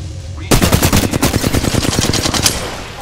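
Rapid automatic gunfire in Apex Legends, a loud close burst of dense, evenly spaced shots that starts abruptly and keeps going for a few seconds.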